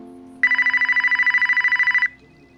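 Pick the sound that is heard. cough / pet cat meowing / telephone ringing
telephone ringing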